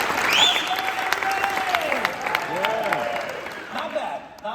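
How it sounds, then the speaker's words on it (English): An audience applauds a presenter in a lively round of clapping, mixed with scattered voices and whooping cheers that rise and fall over the steady applause. "Big round of applause for Mike, everybody."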